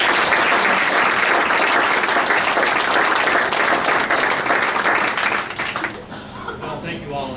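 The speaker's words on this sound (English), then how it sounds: "let's have a big round of applause" Loud, dense applause from a large audience at a building welcome event, many hands clapping together continuously before tapering off near the end as the room quiets.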